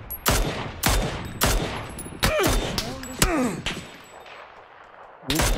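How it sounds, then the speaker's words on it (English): Gunfire in the PUBG video game hitting the player: a series of sharp, loud shot impacts spaced about half a second apart, some with whistling ricochet-like tails, over quiet background. "Getting shot from somewhere else."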